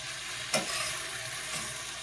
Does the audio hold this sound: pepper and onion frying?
yes